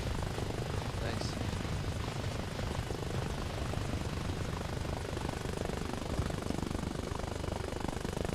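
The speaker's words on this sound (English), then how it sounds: "Time for another cinematic heli ride" Helicopter flying in Arma Reforger, a loud continuous rotor and engine roar that fills the whole stretch without a break.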